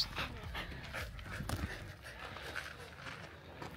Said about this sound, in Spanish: Bueno, mi perro es el más feliz.